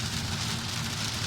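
Steady heavy rain pouring on a car during a stormy drive through flash-flood water, a dense continuous hiss and patter with no talking.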